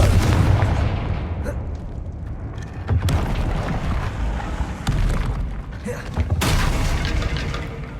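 Blasting spell explosions in Hogwarts Legacy, heavy booming bursts that hit at the start and again around the middle and near the end, over dense continuous game rumble.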